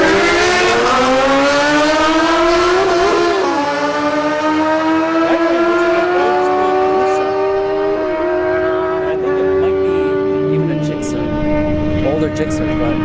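Drag racing motorcycles, a Suzuki Gixxer 1000 against a Kawasaki ZX10R, scream through rising gear-shifted revs in a loud sustained run, with an announcer's voice over the roar.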